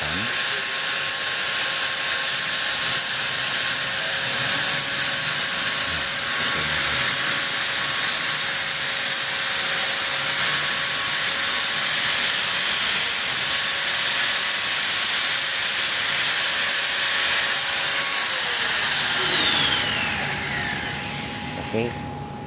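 A power tool cuts a recess into a door to fit an electric door handle, giving a loud, continuous high whine for about nineteen seconds before it winds down and fades.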